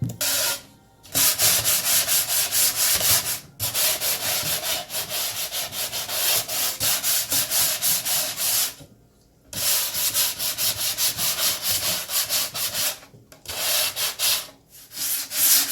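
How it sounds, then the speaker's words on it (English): Hand sanding of a wooden crate being prepared for stain, with long scratchy rubbing strokes in close, loud stretches separated by brief pauses, continuing for many seconds with no talking. "Now the only reason why I'm sanding this is because I'm getting ready to go over it with stain."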